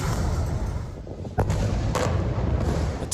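Missile strikes from Israeli warplanes flattening a 12-story apartment complex, heard as a constant heavy roar with a few sharp cracks and booms rising out of it.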